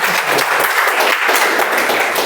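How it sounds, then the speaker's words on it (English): A meeting audience at a Toastmasters club breaks into a round of applause, a dense and fairly loud burst of clapping that fills the whole moment with no talking over it. "Let's have one more round of applause"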